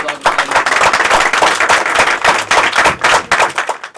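A church congregation claps loudly and continuously, a dense, lively wash of hand claps that holds steady throughout with a few louder bursts.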